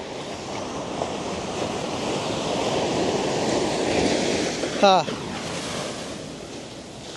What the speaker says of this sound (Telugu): Beach waves వినిపిస్తున్నాయా?